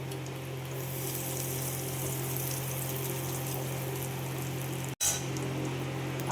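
Tap water running steadily in a kitchen as a bay leaf is rinsed under it, a continuous close rushing flow with a faint hum beneath and a brief cut-off near the end.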